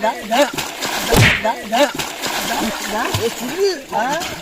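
Water splashes repeatedly as people swim in a village pool, close splatters and sloshes mixed with voices talking and calling out throughout.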